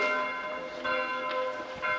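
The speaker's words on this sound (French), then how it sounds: "Avec les cloches qui sonnent." Church bells ringing from a church near apartment buildings, sustained metallic tone, fresh strikes arriving every half second or so, moderately distant.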